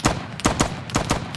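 Gunfire in the Squad military shooter: a quick string of five or six sharp rifle shots crack out in an uneven rhythm over little more than a second, close and loud with no talk.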